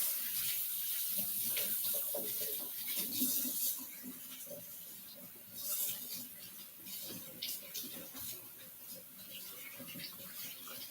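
Celery stalks rinsed under a running kitchen tap while cooking lasagna, a quiet splashing stream of water that rises and dips as the stalks are moved about, with no talk.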